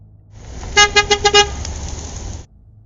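A pickup truck horn blasts five quick, loud honks in a row over the steady rumble of a vehicle on the road, then the engine noise cuts off.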